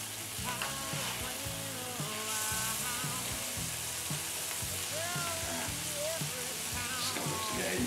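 Scallops sizzle and fry in a non-stick pan while a utensil scrapes across the surface, a steady close sizzle with repeated scratching strokes throughout.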